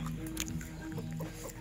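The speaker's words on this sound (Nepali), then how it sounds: "यहाँ चाहिँ कुखुरा पनि रहेछ मामहरूकोमा।" Chickens clucking softly at a rural family home in Nepal, a few short, low clucks spread across a quiet, steady background with no talking.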